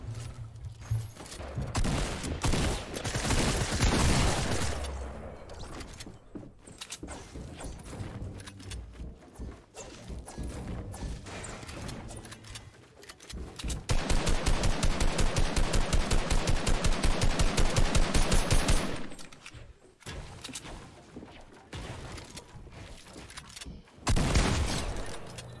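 Video-game gunfire: bursts of automatic fire and scattered single shots, with a dense sustained machine-gun stretch in the middle and further volleys near the end, loud and alone.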